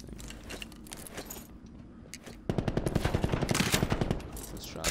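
Gunfire in the video game Black Ops 4: after a stretch of game ambience, a rapid automatic burst of closely spaced shots starts and keeps going loud over steady background noise.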